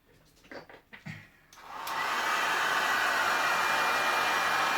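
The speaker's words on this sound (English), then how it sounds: "you can move it around with a dryer or your heat gun as well" A hair dryer or heat gun drying paint starts up after a few soft handling knocks, then blows a steady, loud, close rush of air that continues to the end.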